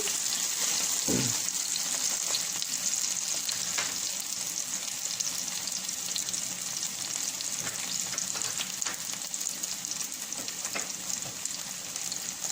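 Prawns frying in a pan with salt, cumin, turmeric and chili give off a steady, dense sizzle that runs the whole time, with one soft stir or clatter near the start and no talking.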